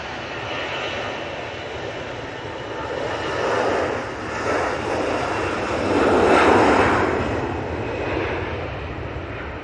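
An Airbus A321ceo airliner takes off at Manchester Airport, its jet engines a steady broad roar that swells to a peak partway through and stays loud to the end.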